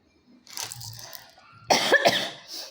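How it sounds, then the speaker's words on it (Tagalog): A dry cough sounds close and fairly quiet, a couple of rough bursts with a throat-clearing quality, alone without talk. "Yung ubo ko ba, dry na dry."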